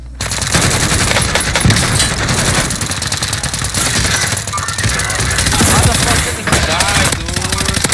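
Rapid automatic gunfire in the Warzone video game, dense bursts of shots rattling almost continuously, loud and close, with a voice faintly underneath.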